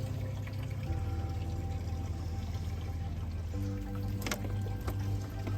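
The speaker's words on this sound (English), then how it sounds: "So to demonstrate, just go a little bit of water like this." Water is poured from a bottle into a hydroponic pipe system, a soft continuous trickle and splash heard close over a low steady background hum, with a few small knocks near the end.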